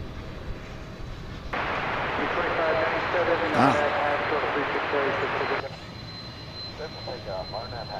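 An American Airlines jet landing at DFW Airport gives a loud, steady engine roar and rush that swells in and holds for several seconds, then drops away, with talk faintly underneath.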